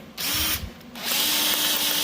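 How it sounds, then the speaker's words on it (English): A power drill bores through a broken bolt in two bursts, its high whine rising and biting into metal with a short pause between, loud and close with no talk. "if your drill bit isn't a dull piece of garbage, it'll drill right through it"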